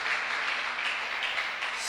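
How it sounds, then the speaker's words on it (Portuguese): A church congregation applauds in a steady, distant wash of clapping that runs throughout. "Aplauda ao Senhor, amados."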